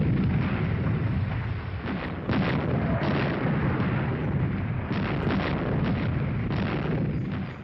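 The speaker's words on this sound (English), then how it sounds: "the tremendous power of these battleships when they fire the 16-inch guns" Battleship 16-inch naval guns firing, heard as a dense, sustained roar of heavy booms with several sharper bursts standing out, loud and continuous throughout.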